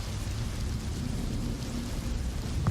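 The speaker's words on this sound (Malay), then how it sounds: "Hujan dah mula reda." Steady rain with a low rumble of thunder, a continuous broadband wash of moderate loudness with a deep rolling undertone and no voices.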